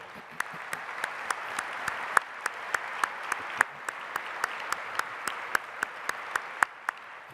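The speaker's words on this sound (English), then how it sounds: "Would you give all these folks a round of applause, please?" Audience at a business breakfast gathering giving a round of applause; a soft background patter overlaid by regular sharp, distinct claps landing about three per second, fairly even in rhythm and moderately close.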